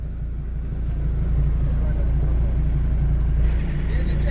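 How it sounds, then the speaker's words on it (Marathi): Morning traffic jams up at the busy Kavathe Mahankal vegetable market, with a loud, steady, low engine rumble from idling vehicles and a sharp hiss of air brakes near the end. "सकाळ सकाळ लगबग आहे ट्रॉफिक जाम होत आहे"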